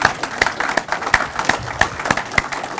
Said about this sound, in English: May I please invite everyone to give a round of applause to the people and the government of Germany